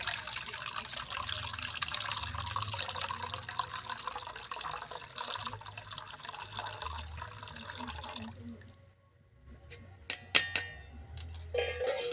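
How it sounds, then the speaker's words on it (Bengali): Citric acid water strained through a strainer into a metal bowl, a continuous trickling pour that fades out after about eight seconds, followed by a few scattered drips and light clinks. "আমি একটা জামবাটি নিয়েছি সঙ্গে আমি ছাকুনিও নিয়েছি যেইটুকু যদি ময়লা থেকে থাকে এই জন্য ভালো করে জলটা ছেঁকে নিতে হবে"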